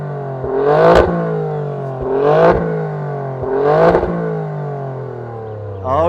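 An Alfa Romeo Stelvio Quadrifoglio V6 engine is revved three times in a row, each blip climbing sharply and falling back to idle, loud and close, with a fourth rev starting at the end.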